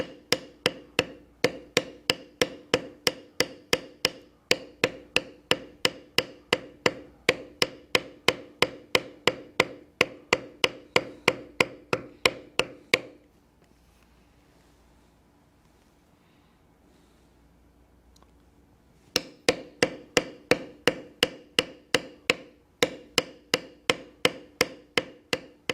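A checkered beveler is hammered along leather border lines with a steady series of sharp taps, one after another, that stop for several seconds and then start again in the same even rhythm. No one speaks.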